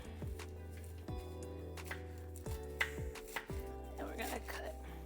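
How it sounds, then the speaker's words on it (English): Italian flat-leaf parsley being chopped with a knife on a cutting board in a home kitchen, a series of close, irregular thuds and taps over a steady low hum from a hot stovetop. "we're gonna cut up some Italian fresh parsley"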